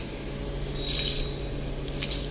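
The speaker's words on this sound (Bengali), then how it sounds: "আমরা গাছগুলোকে জল দিয়ে দিই" Evening watering of garden plants, including a hibiscus, with a soft continuous trickle and splash of water over low background hum, brief brighter spatters rising near the middle and end.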